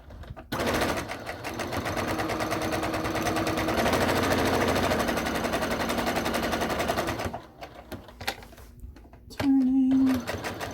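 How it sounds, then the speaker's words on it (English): Sewing machine stitching a clutch purse runs in a steady, rapid mechanical chatter for several seconds, pauses, then starts again briefly, with a voice speaking at times. "The outer, we're going to sew on that line, the outer rectangle area."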